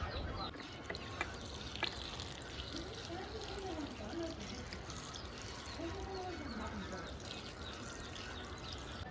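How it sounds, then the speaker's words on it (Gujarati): Gumla fish pieces are washed in cold water, making a faint, continuous trickling and sloshing while a voice talks over it at times. "આપણે છે ને ગુમલાના બટકા ધોવાનું ચાલુ કરી દીધું છે."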